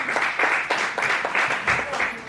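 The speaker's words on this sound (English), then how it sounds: "Yes, please let's clap for" A lecture audience claps together in steady, even bursts, a dense wash of applause that carries on throughout the brief moment.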